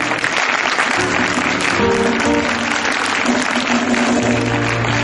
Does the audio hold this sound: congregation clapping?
yes